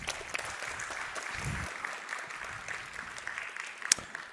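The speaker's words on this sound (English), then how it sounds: "A big round of applause." Audience applause greets an indie game developer taking the stage at a conference talk, a steady wash of clapping at moderate level throughout with no voices over it.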